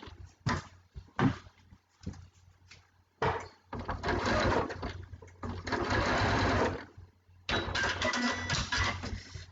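A sewing machine stitches binding onto a quilt in bursts of steady rapid whirring, stopping and restarting several times with quiet pauses between runs.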